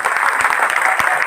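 Seminar audience in a park gives a brief, loud round of applause, a dense continuous patter of many hands heard up close with no speech over it.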